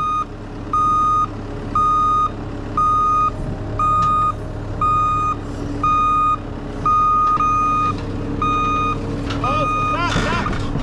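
A truck backing up a trailer sounds repeated loud reversing beeps at a steady rhythm over a rumbling engine idle, with a person speaking briefly near the end.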